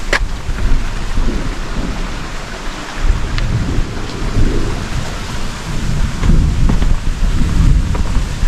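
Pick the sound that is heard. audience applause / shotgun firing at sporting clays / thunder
thunder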